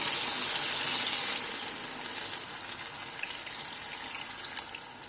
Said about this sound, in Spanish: Vamos a añadirle ahora el caldo.